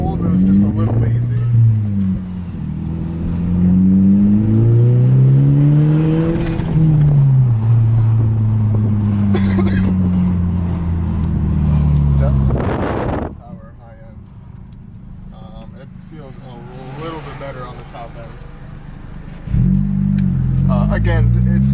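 Engine of a 2012 Volkswagen GTI with an Injen Stage 2 intake, loud steady droning with rising and falling pitch sweeps as it revs, dropping away briefly before climbing again, with someone talking over much of it.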